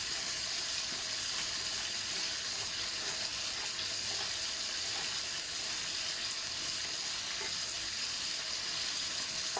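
Shallots frying in a pan with a steady, dense sizzle and crackle that runs unbroken throughout, close and fairly loud, with no voices.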